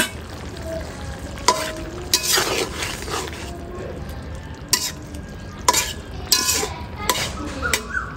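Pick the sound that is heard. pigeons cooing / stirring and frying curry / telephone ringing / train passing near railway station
stirring and frying curry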